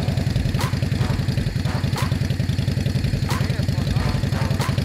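A Kawasaki ZX9 motorcycle engine runs with the choke pulled out, a loud, close, rapid lumpy idle with regular pulsing beats and periodic sharper bursts, as a voice is faintly heard.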